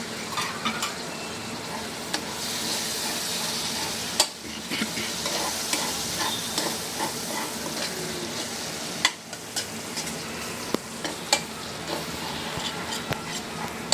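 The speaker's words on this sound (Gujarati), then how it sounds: "તેલ છૂટું પડે નહીં ત્યાં સુધી એને સાતળવાની રહેશે." Masala for kaju gathiya, moistened with a spoonful of water, sizzles and fries in oil while a spoon stirs it, a steady close crackle broken by sharp clicks and scrapes against the pan.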